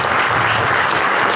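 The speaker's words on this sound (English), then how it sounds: "So, yeah, round of applause." A dense, steady wash of audience applause at an entrepreneur and investor gathering, loud and continuous throughout the brief moment.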